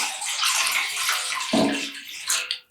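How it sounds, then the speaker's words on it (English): Water poured into a pan for dyeing non-superwash wool, a steady splashing stream close by with a brief gurgling change partway through, then tapering off abruptly. "I'm going to add in a little bit of water first"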